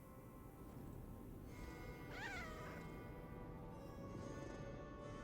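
A cat meows once in the Lies of P video game, a short rising-and-falling cry heard over steady, dense in-game ambience and music, with no talk.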